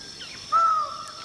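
A twelve-wired bird of paradise gives a single clear, drawn-out whistled call that slides slightly downward, fairly close against a faint background of other calls and insects.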